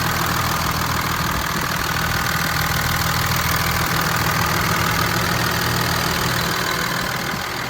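A 2008 Ram 3500 diesel pickup engine with stock airbox and exhaust idling steadily, a loud, even rumble with a rough clattering knock that holds throughout.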